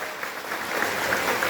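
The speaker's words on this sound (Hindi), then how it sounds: "और एक जोरदार ताली हमारे मुख्यमंत्री जी के लिए और विपल भाई के लिए" A crowd at a political rally applauds for the chief minister, a steady wash of many hands clapping continuously and building slightly in loudness.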